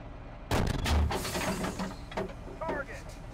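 A tank cannon fires a sabot round in the Steel Beasts video game: a sudden heavy boom followed by mechanical clanks and rattles of the turret, with a voice speaking in the background.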